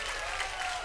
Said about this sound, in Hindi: मेरी मामी के लिए जोरदार तालियां हो जाए